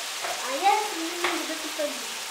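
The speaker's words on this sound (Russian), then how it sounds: "Пусть чуть-чуть томат тоже пожарится" Cabbage and tomato ketchup frying in a pan, a steady close sizzle with stirring scrapes, while a child and an adult talk over it.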